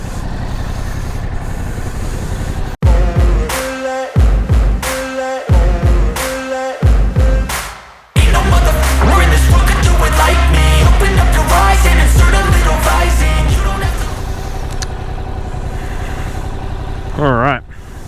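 A 2022 Yamaha R7 sport motorcycle is ridden. The engine catches, then barks through several short revs with pauses between them before settling into a continuous, loud roar while riding. Someone talks over the engine noise.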